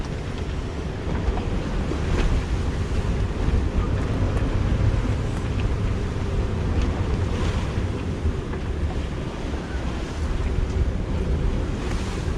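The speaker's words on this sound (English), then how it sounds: "It's not meant to be this windy at all." Strong wind roars and heavy waves crash around a sailing boat crossing the Bay of Biscay. The gusting wind and surging water stay loud and continuous, with buffeting against the microphone throughout.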